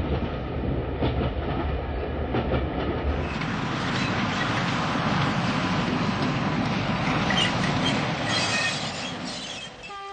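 A passenger train runs along the rails, heard from inside a compartment as a continuous loud rumble with wheel clatter and faint squeals, steady throughout and free of talk.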